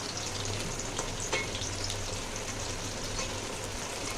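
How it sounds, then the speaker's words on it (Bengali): Potato pieces fry in oil for a mutton curry, a soft, steady sizzle with a low hum underneath and an occasional light clink of a utensil, fairly quiet and without talk. "দেখো আলুটা অনেকটাই ভাজা হয়ে গেছে। তো আলুটা ভাজা হোক"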